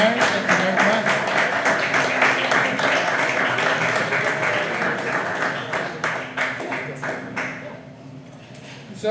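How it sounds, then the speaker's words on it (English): An audience applauds an artist at a fine arts club meeting, dense steady clapping that thins out and fades toward the end. "Let's give a round of applause to Mary."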